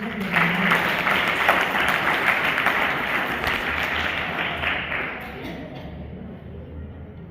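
An audience at a district-level reading promotion and debate competition claps for the teachers, a dense burst of applause that holds steady, then thins and fades out over the last couple of seconds.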